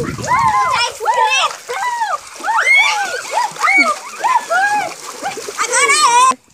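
Children splash water around a pool during a challenge to stay balanced on an inflatable horse float. Repeated splashes sound close and lively beneath excited, overlapping kids' voices.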